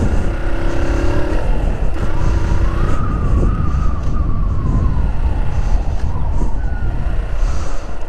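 Car engine revving up in second gear during a driving lesson on a quiet practice lot, a loud steady drone with rising pitch heard from inside the car.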